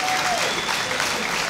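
Audience applause in a room at a live talk show in Toronto, a steady wash of clapping hands at moderate volume with a faint voice underneath.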